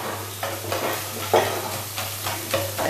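A metal spatula presses and mashes cooked dal in a pan for dal puri, with soft, rhythmic squelching strokes repeating about every half second over a steady low hum.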